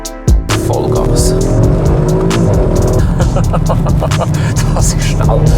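Sportec-tuned Audi RS4 B9 on a mountain pass road, engine revving hard at full throttle with a loud, rising, snarling tone and crackling pops, close and dominant throughout.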